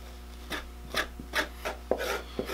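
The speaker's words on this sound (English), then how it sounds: "you want to scrape this clean of any meat before you put it away to dry" Blade scraping meat off deer sinew, a series of short rasping strokes about every half second, close and fairly quiet over a low steady hum.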